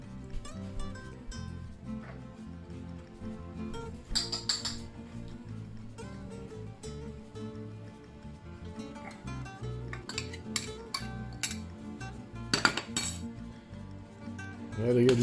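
A spoon stirring chunky chili in a pot, giving irregular metallic clinks and scrapes against the pot at close range, with sharper knocks at a few moments and no talking.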